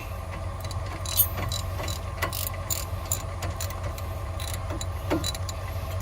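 A ratchet turning a nut during a front brake pad change on a 2010 Ford Escape Hybrid, with soft, sparse clicks over a steady low hum.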